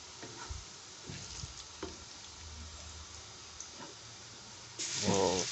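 Onions frying in a pan for matar keema, a faint sizzle with occasional scrapes of stirring and a louder clatter near the end, no talking.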